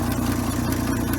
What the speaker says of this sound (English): That ticking sound, some of that could be the huge exhaust leak